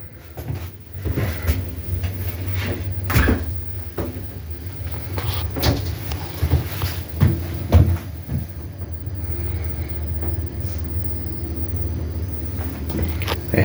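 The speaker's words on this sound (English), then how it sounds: "It is a glass shower door." A glass shower door in a cruise ship cabin bathroom on the Norwegian Breakaway is opened and closed. Several close knocks and thuds stand over a steady low hum.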